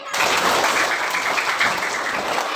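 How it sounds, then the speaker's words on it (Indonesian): A second-grade primary school class claps together in a classroom, a dense, steady burst of hand clapping lasting a couple of seconds. "Tepuk tangan dulu buat kelas dua."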